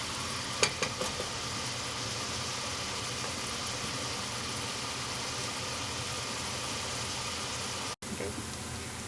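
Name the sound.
onions cooking in a pan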